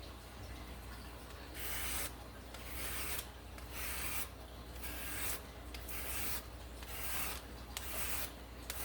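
A knife scrapes the outer skin off raw carrots for a pumpkin and carrot punch, a series of quiet rasping strokes in a regular back-and-forth rhythm, close up with no talking.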